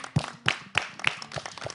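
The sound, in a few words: audience applause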